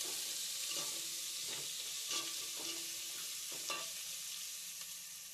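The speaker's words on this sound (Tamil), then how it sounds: "வெங்காயம் வதங்கிருச்சு." Onions sautéing in a pan for sambar, a continuous close hiss and sizzle with soft periodic scraping strokes of stirring, no voices.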